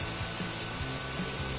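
Close, constant airbrush hiss sprays a temporary tattoo onto skin, steady and unbroken for the whole moment with faint low thumps underneath.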